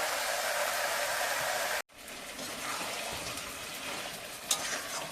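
Meat frying and being stirred in a pan, a steady broadband sizzle with a brief cut partway through, then continuing sizzling and stirring scrapes close up, no talk.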